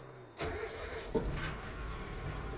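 A Ford Capri XR2 engine cranks and catches after a short silence, then settles into a steady, close idle that runs to the end without any talk.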